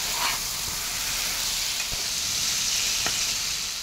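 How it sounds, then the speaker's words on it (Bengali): Taro and potato that were fried earlier are stirred and fried in a spice paste with oil for a rohu fish curry. A strong steady sizzle fills the clip, with a few spatula knocks against the pan. "এবার আগে থেকে ভেজে রাখা গাটি কচু আর আলুটা দিয়ে দিয়েছি, দিয়ে আবারও ভালো করে একটু কষিয়ে নিচ্ছি।"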